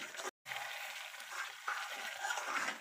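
Kadai paneer masala is stirred in a pan, giving a soft scraping and gentle sizzle for a few seconds, broken by a brief moment of silence near the start.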